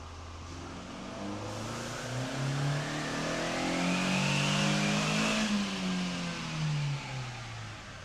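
A Chevy Sonic on a dyno, boosted by a homemade leaf blower supercharger, revs up in a rising, droning engine pull that peaks mid-clip and then winds back down, with a steady whooshing blower noise throughout.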